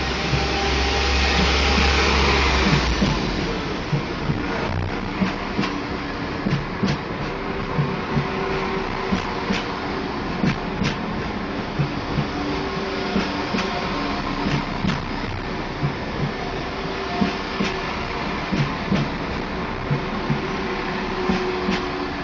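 A West Midlands Railway class 172 diesel unit pulls out of Birmingham Snow Hill with a steady engine drone and rumble. Faint rail clicks recur over about twenty seconds, with no voices.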